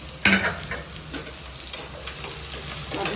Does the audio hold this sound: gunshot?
no